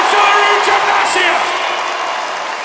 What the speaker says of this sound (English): you can hear the crowd here in Manchester react